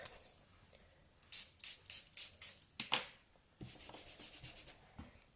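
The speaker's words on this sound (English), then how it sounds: "Now I just need to spray some more water on my Stampin' scrub" A spray bottle spritzes water onto a stamp scrub pad in a few short bursts and rapid pump sequences, quiet and close, separated by brief pauses with faint handling noise.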